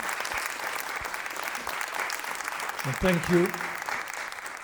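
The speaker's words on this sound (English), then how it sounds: "Applause for them" An audience at an Ig Nobel session at the MIT Museum applauds its three winners with steady, even clapping throughout, while a voice briefly speaks over it partway through.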